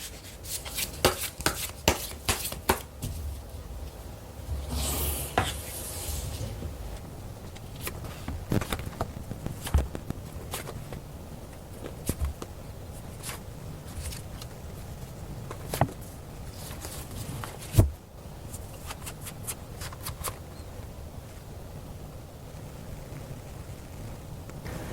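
Tarot cards are shuffled and drawn close up in a quiet room, with soft rustling and a run of crisp taps and slaps scattered unevenly throughout, and no one talking.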